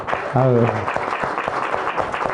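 A church congregation claps in a fast, rhythmic burst while a voice briefly calls out over the applause.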